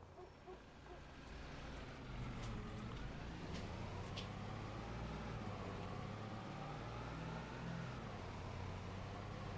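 Truck engine in Farming Simulator 25 on the Carpathian Countryside map, a steady low drone that rises and falls slightly in pitch as it drives, heard close and continuous with no talk.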